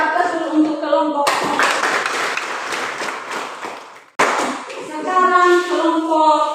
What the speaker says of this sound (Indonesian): Berikan aplaus dulu untuk kelompok.